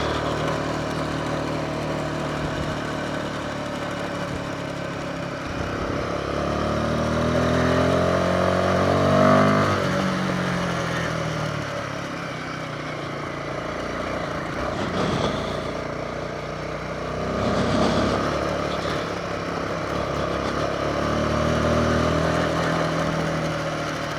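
An adventure motorcycle engine drones steadily while riding through Morocco, a continuous moderate rumble that rises and falls gently with throttle, with faint wind and road noise and no talk.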